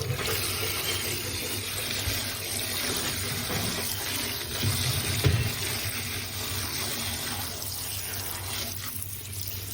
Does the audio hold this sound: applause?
no